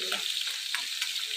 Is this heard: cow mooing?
no